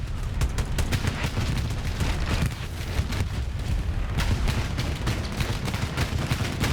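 Continuous heavy weapons fire in a multiplayer war video game match with tanks, loud and relentless, the rapid shots packed into a dense roar with brief lulls.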